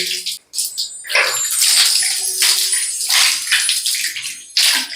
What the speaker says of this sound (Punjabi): ਆਪਾਂ ਸਾਫ਼ ਪਾਣੀ ਪਾ ਕੇ ਇਹਨੂੰ ਚੰਗੀ ਤਰ੍ਹਾਂ ਸਾਫ਼ ਪਾਣੀ ਪਾ ਕੇ ਕਲੀਨ ਕਰ ਲਾਂਗੇ